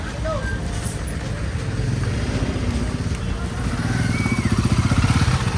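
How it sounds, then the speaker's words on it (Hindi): Cars and motorcycles crawl through a traffic jam on a hill road to Kasol, a close engine drone rumbling low and growing rougher and louder toward the end, with faint horns and background noise. "लोगों ने गाड़ी पार्क करी है यहाँ पे, इसी कारण ट्रैफिक जाम हुआ है"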